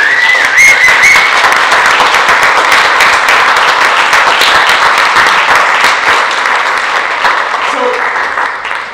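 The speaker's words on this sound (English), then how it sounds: "So I want a round of applause for everyone who's come every year in and out." Sustained audience applause at an aquaculture workshop, dense clapping from a crowd filling the room steadily and loudly throughout before easing slightly toward the end, with some voices mixed in.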